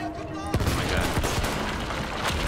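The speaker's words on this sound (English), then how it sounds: "Fucking bombs, thank Christ, they don't have better aim" Bombs exploding in the Battlefield 1 campaign, a run of heavy booming blasts and crackling gunfire-like bursts close and loud over a constant rumbling battlefield din.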